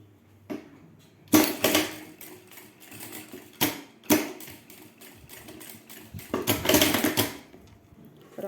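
Sewing machine stitching a seam in fabric for a simple wallet, heard as several short bursts of rapid mechanical clatter separated by brief pauses, close and fairly loud.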